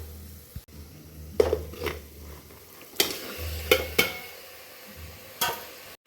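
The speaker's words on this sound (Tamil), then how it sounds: "இது கூட நம்ம மசாலா மிக்ஸ் பண்ணி வச்சுருந்த சிக்கனை சேர்த்துக்கலாம்" Marinated chicken tipped into a tomato masala gravy for chicken biryani and stirred, with scattered scrapes and clanks of a spoon against the pot over a soft, steady sizzle.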